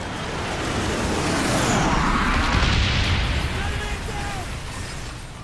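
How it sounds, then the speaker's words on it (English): Napalm strike explosions in a video game firing range: a sustained, loud, rumbling roar of blasts and fiery bursts that swells and holds for several seconds, with speech likely mixed in. "Enemy napalm strike incoming."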